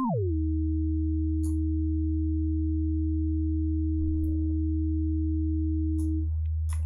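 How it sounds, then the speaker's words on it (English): A pure, steady sine tone from the t[w]lv harmonic oscillator in VCV Rack that sweeps quickly downward at the start, then holds one constant pitch throughout, with a few faint clicks in the background. "Okay, so sine wave."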